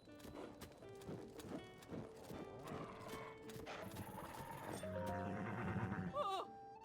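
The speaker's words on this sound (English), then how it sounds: "No doubt about it, that is Princess Zelda's steed for certain" Horse hooves clip-clopping and a whinny from Princess Zelda's steed in the video game The Legend of Zelda: Tears of the Kingdom, layered with game music and ambience, ending in a loud neigh.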